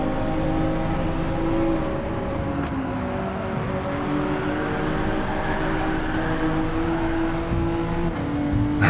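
A modified Toyota Alphard's engine in Gran Turismo 7 drones steadily and loudly throughout, a continuous revving car sound with shifting pitch and no talking.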